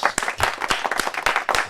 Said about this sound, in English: big round of applause, Mr. Edwin Santos